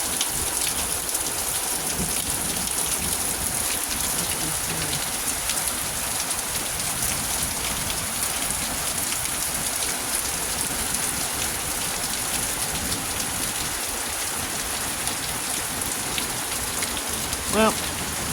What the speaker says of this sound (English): don't want to bore you with the rain either